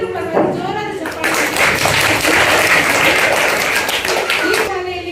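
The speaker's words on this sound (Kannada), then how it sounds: "ನಮ್ಮ ನಿಮ್ಮೆಲ್ಲರೂ ಪರವಾಗಿ ಜೋರಾದ ಚಪ್ಪಾಳೆ" A crowd breaks into loud clapping at a school stationery distribution event held by the Ambedkar Swabhimani Sene. The dense applause lasts about three seconds, with a voice heard just before and after it.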